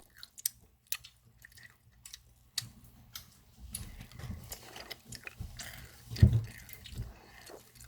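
Crunchy bites and chewing of food in a Korean mukbang, sparse clicks and taps at first, then closer, louder crunching and mouth sounds with one prominent bite, and no speech.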